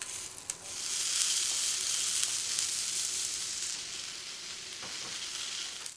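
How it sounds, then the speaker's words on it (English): Tomato halves sizzle steadily in hot oil in a frying pan at moderate heat, a close, continuous frying crackle with a few light scrapes. "Heat a frying pan with some oil to a moderate heat and add the tomato halves one by one."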